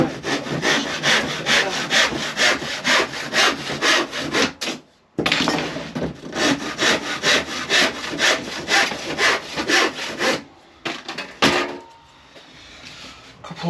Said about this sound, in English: Couple of bits of MDF,